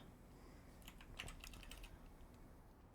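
Quick bursts of computer keyboard typing, faint and close, in a short flurry of keystrokes amid quiet room noise with no talking.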